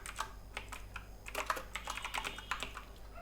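Fingers type on a computer keyboard in quick, uneven bursts of light clicking keystrokes, close and fairly quiet, with brief pauses between runs and no talking.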